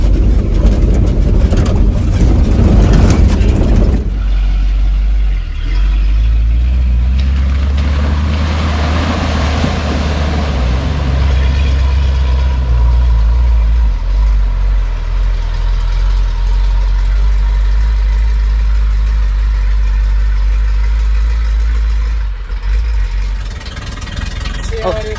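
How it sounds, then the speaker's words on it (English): A tow truck grinds along a rough off-road trail on the way to recover a hydrolocked Jeep Gladiator, its engine a steady, loud, low rumble for most of the ride, with people talking over it now and then. "Tow truck's a little bit of a rough ride."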